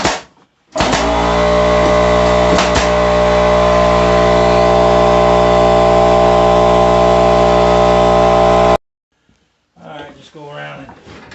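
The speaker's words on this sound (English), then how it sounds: "the compressor kicked on" An air compressor starts with a sudden jolt and runs loudly at a steady mechanical drone for about eight seconds before stopping abruptly, after which someone speaks briefly.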